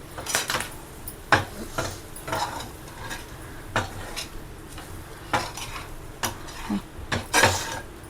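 Mutton liver roasts with garam masala and coriander powder in an uncovered pan, a spoon scraping and clinking against the metal in uneven strokes over a faint sizzle.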